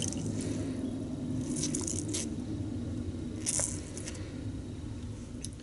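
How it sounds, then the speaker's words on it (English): Water being squeezed from a soaked makeup beauty sponge, a soft, close squishing and dripping over a faint background hum, with a couple of brief wet squelches and no speech. "I am wringing it out."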